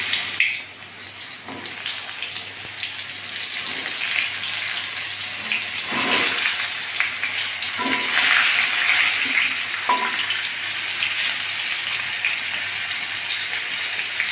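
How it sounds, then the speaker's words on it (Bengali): Cut pointed gourds dropped into hot white oil in a kitchen pan, giving a steady hissing fry with watery crackle that swells in places, close and continuous, no voices. "এখন আমি কেটে রাখা পটলগুলো ভেজে নেব।"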